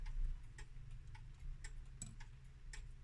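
Zenith pendulum clock ticking steadily on a workbench before disassembly, each tick sharp and close, about two per second, alone over a low background hum.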